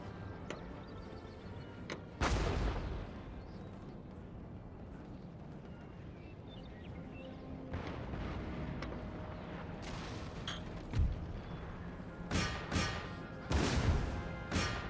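Cannon fire in Empire: Total War, a series of heavy booms and crashes breaking out over a steady battlefield din, with a big blast early and a cluster of sharp reports near the end.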